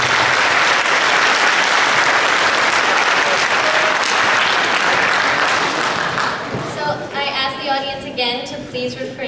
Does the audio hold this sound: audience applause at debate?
yes